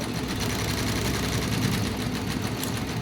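An embroidery machine stitching a beaded design runs with a dense, steady mechanical whir and rapid needle chatter, close and continuous with no speech.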